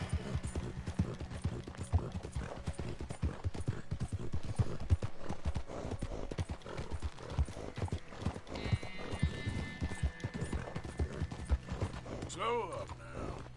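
Horse hooves clip-clop at a steady trot in Red Dead Redemption 2 on PS4, with a brief whinny, a long ringing tone and creaks over the game's ambience, while someone talks over the top.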